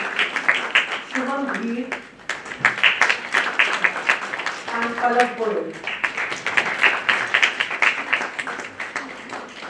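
Audience applause for award winners at the MAADHYAM 2025 ceremony, with scattered clapping running beneath a presenter's steady spoken announcements.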